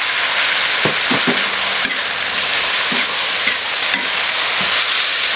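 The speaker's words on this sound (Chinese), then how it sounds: "来炒一下， 炒成这样，再下入最好的牛肉，" Beef and Sichuan lovage stir-fry in a hot wok with a loud, steady sizzle. The spatula scrapes and tosses the food in intermittent strokes, all heard up close.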